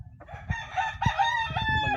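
A Kalpara Henny line gamefowl rooster lets out a single close crow, with a few clucks and faint farm noise around it.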